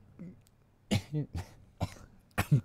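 A person coughs repeatedly, several harsh bursts spaced out with rough throaty sounds in between, close to the listener.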